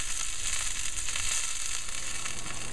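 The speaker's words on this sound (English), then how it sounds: "We've got the meat thermometer in, and it's sizzling away." A meat roast with a thermometer in it sizzles away in a hot oven, a steady bright crackling hiss that holds even and close throughout with no voices.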